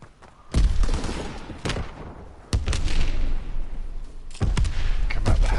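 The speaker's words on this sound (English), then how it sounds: "Watch that minigun. Light machine gun there." Light machine gun fire in Call of Duty WWII crackles in loud, close bursts, several heavy volleys separated by brief gaps, with booming impacts under the shots.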